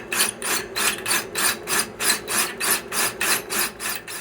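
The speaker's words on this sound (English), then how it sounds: "I'm just drilling out that broken bolt" Drilling out a broken bolt on a VW bus ball joint and torsion arm: a steady run of rhythmic, gritty metal-on-metal grinding strokes, close and fairly loud, repeating about three times a second with no talk.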